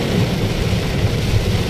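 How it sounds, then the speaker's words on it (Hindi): Heavy downpour during a cloudburst in South Gujarat, a dense, loud, continuous roar of rain with low rumbling underneath and no voices. "गाइस बहुत खतरनाक बारिश हुई है।"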